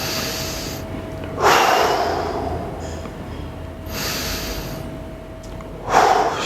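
Three forceful breaths, sharp nasal exhalations like snorts, come at slow, even intervals during a neck stretch, close and clear over a quiet hum, with no talking.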